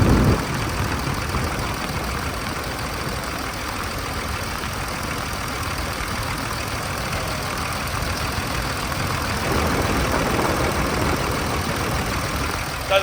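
A rebuilt 5.9L HO engine in a Dodge Ram 2500 SLT Sport 4x4 idles steadily with a low, even rumble, close and continuous, with a brief knock at the start and end.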